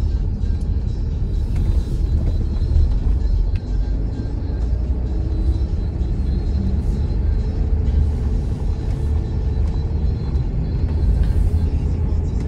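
A Land Rover Discovery 4 with a ZF 8HP gearbox drives on an estate road near home, giving a steady low rumble of road and engine noise throughout, with no talk.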